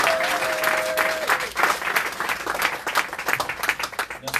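A church congregation applauding during a Passion of Christ service, steady dense clapping from many hands filling the room, loud and continuous with faint voices and a brief tone at the start.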